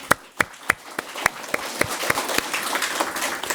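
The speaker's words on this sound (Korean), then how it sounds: "저는 이 환상을 주신 주님께 우리가 감사의 박수를 올려드렸으면 좋겠어요" Applause of thanks from a church congregation at a morning worship service, starting as a few sharp, spaced claps and swelling into fuller, steady clapping across the room.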